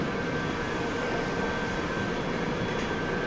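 A London Underground Piccadilly line train runs steadily, with a continuous loud rumble of wheels on track and a faint steady whine from the carriage.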